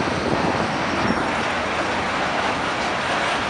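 A CSX freight train with CN locomotives rolls past close by in Montreal, a dense, continuous rumble and rattle of wagons with no pauses and no talking.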